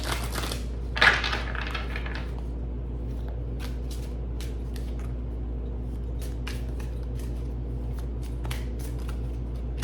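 Tarot cards being shuffled, a brief burst of riffling near the start followed by faint scattered card taps and flicks over a steady low hum, with no voice.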